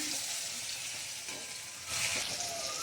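Chopped tomato and onion frying in hot oil for a home-style Bengali egg curry, a steady close sizzle throughout that swells briefly as the pan is stirred, with no voices.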